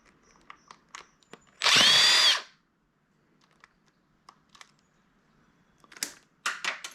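A power drill backs out screws from a retail inventory scanner during a teardown: one loud, steady whir of under a second, surrounded by faint clicks and small handling taps from the device.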